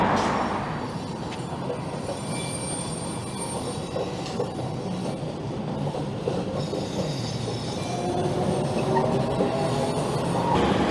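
A GO train rolls past near Kennedy Station in Toronto, a steady, loud rumble of rail cars with faint wheel squeal and clatter lasting the whole stretch.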